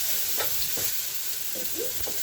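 Onions frying in a pan and being stirred, giving a steady hiss of sizzling with soft scraping strokes of the utensil, fairly quiet and with no talking.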